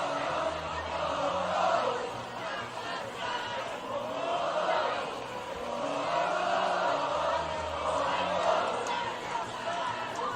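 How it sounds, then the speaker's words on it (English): A Pius X High School home crowd cheers after a touchdown in a varsity football game against Scottsbluff, a distant, swelling roar that rises and falls in waves under a voice talking. "Pius crowd is loud. They're happy that we scored a touchdown."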